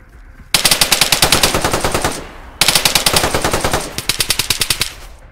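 Two long bursts of rapid automatic gunfire from an A3 rifle in the video game DayZ, loud and close, with a short pause between them and no talking.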